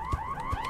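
A car-style alarm in the video game Hello Neighbor rings with a rapid warbling siren tone that repeats in quick pulses, loud and close, with no talk over it.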